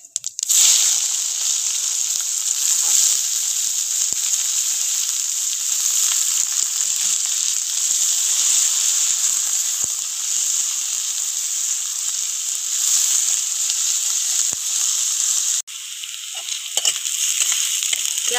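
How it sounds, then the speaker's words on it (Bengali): Chopped onions go into hot oil with fried whole cumin and whole garam masala in a pan, bursting into a loud, steady sizzle that holds for several seconds before briefly dropping and resuming. "জিরেটা ভাজা হয়ে গেছে, এবার এর মধ্যে আমি পেঁয়াজ কুচিগুলো দিয়ে দেবো।"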